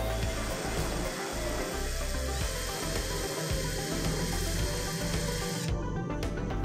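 A Bitec R1012 cordless drill with a screwdriver bit fitted spins steadily at close range, a continuous motor whine that holds for several seconds before cutting off near the end.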